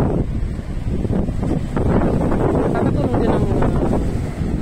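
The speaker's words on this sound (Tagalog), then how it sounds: "Galit ang dagat dito. Laki ng mga alon." Rough sea with big waves pounding near a breakwater, heavy wind buffeting the microphone over a continuous loud roar of surf and churning water, with a voice talking over it.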